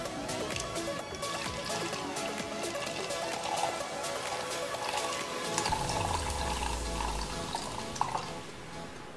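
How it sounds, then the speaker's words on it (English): Red liquid is poured into a homemade Pythagoras cup, a steady close trickle and splash of filling liquid with a rising gurgle partway through as the level climbs, no talking. "start pouring in the red liquid into the Pythagoras cup"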